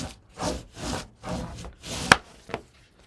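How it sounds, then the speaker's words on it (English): Glued paper hinges for a mini album being burnished by hand, a series of soft rhythmic rubbing strokes pushed away from the worker, close and quiet, ending in a couple of sharper taps. "And then I'll push these away from me and burnish."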